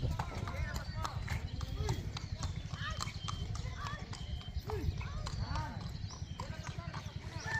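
Rapid, steady hoof clip-clop of a trotting horse, close and continuous, with people talking over it throughout.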